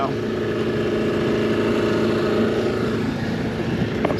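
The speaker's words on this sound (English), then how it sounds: "Still got the boat over there, nice and idle." A boat engine idles nearby, a constant low rumbling drone with a steady, even texture that holds throughout, heard alone without voices.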